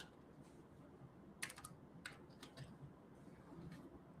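Fingers type a keyword on a computer keyboard in short, faint bursts of clicking keystrokes with small gaps between them, set against a quiet room.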